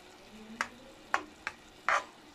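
Moroccan shakshuka of tomato and egg mixture in a pan, with a soft steady sizzle broken by four short scraping stirs of a utensil against the pan.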